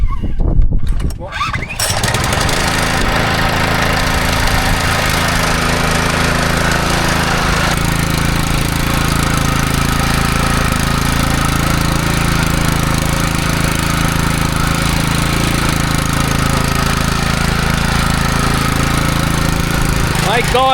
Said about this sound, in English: to be able to pull an engine and starts like that, that's awesome